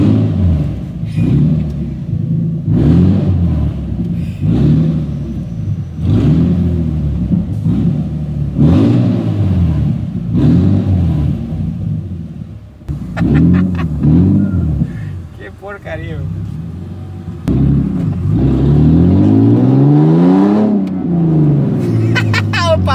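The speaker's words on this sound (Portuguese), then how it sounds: "como eu já tirei o escape, eu vou dar um rolezinho agora" A Nissan 370Z with its exhaust removed revs hard again and again, a loud raw engine roar rising and falling in repeated bursts, with one long sweeping rev near the end.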